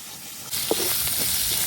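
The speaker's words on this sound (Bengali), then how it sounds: "সমস্ত পেঁয়াজ রসুন গুলা এই যে ভাজা হয়ে গেছে" Onion and garlic fry in a pan, giving a steady close hiss and sizzle that jumps in suddenly and keeps going, with a few soft knocks on top.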